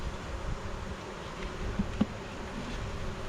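Honey bees buzz steadily around an open beehive during a midday inspection in mid April, a close, continuous drone with a couple of louder passes near the microphone and no speech.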